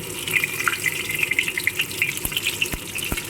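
Shrimp cutlets frying in oil: a steady bubbling hiss dotted with quick pops and crackles, and a few sharper clicks toward the end, close and moderately loud.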